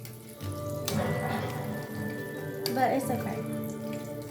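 A kitchen tap runs into a sink while dishes are washed, steady splashing water with a few clinks and bumps of dishware beneath a voice.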